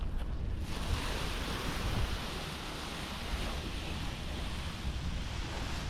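Steady breeze blows outdoors while a paraglider wing is unboxed, a continuous broadband rush with wind buffeting the microphone, loud and unbroken throughout, with no voices.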